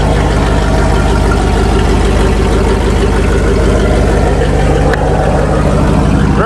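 1998 Dodge Dakota engine running after a crank position sensor repair, a loud steady idle with an even low rumble and no change in pace, close to the listener.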